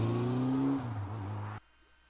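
A car in Resident Evil 6 drifts with its engine revving high and then dropping in pitch as it slides, loud and close, before cutting off abruptly into near silence.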